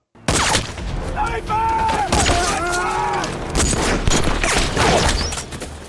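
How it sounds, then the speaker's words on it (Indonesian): Bursts of gunfire crackle and boom continuously in a war film battle scene between American and German troops, while voices shout and cry out over the battle noise. "tembakan seorang sniper tepat mengenai kaki Kolonel James"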